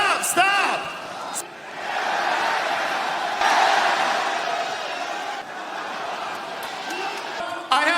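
A wrestling arena crowd at a televised event in California roars and chants in swelling waves, a dense distant mass of voices rising and falling, with a few sharp shouts and thuds at the start and end.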